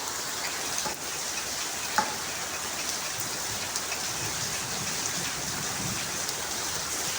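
Steady rain falls continuously with a dense hiss, a few louder drops tapping nearby; no voices.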